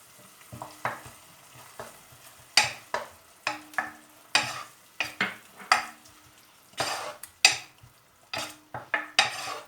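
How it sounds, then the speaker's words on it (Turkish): Tomatoes fry in a pan and are stirred, giving a string of sharp, close scraping strokes over a low sizzle, with short pauses between the bursts. "Domateslerimizi iyice kavruldum."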